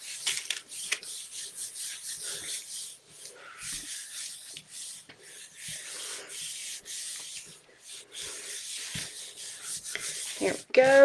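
Paper rubbed by hand onto a gel press printing plate, a close, soft scratchy rasping in irregular strokes with brief pauses, ending in a faint peeling sound.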